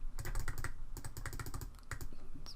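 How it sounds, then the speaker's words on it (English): Rapid clicky key presses as numbers are tapped into a calculator, a quick irregular run of close taps with short pauses between groups. "So you type into your calculator"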